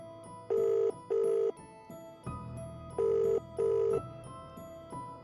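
A telephone rings in four double bursts of a bright electronic tone, fairly close and clear, with short pauses between the pairs and a faint background hum.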